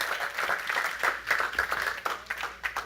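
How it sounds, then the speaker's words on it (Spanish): A church congregation applauds at a Sunday service, a steady mass of clapping that fills the room for a few seconds with no voices standing out. "Un fuerte aplauso entonces a mi esposa"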